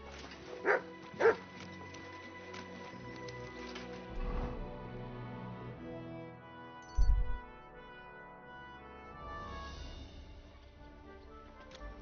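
A dog gives a few scattered barks, two quick ones early and a couple more spaced out, against a faint background hum.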